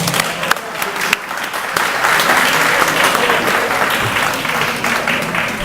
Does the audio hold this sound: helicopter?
no